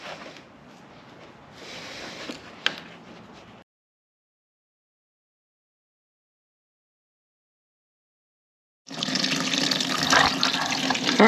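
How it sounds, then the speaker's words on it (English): Fluid from a 2018 Jeep Grand Cherokee pump splashes and gurgles into a bucket in two bursts separated by several seconds of silence, the second louder and fuller. "it should start draining into this bucket"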